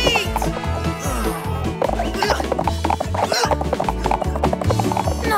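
Horses clopping and neighing in a children's educational cartoon about horses, set against continuous loud music; the hoof and whinny sounds are partly buried under the score.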